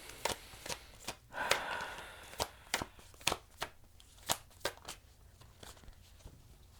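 Tarot cards being shuffled for a reading make a series of close, crisp riffling snaps at an uneven pace, each a short papery burst, with quiet gaps between.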